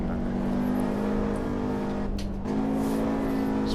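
A Mercedes-Benz 190E Evo 2 drives in a racing simulator on the Nordschleife, its engine holding a steady droning note under gentle throttle, briefly dipping during a quick shift before resuming.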